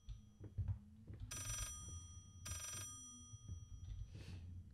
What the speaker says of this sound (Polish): To tylko telefon.